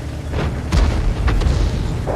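Heavy boom of a tank gun shell striking an enemy tank in World of Tanks, with deep rumbling impacts near the start and middle over a continuous low engine drone.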